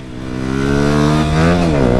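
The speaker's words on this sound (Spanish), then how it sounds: "Esta moto no tiene freno motor, usted suelta y sigue hasta la moto como acelerando." A motorcycle engine with no engine braking, revving up and accelerating, a loud, close, steady harmonic drone that rises in pitch and dips briefly near the end.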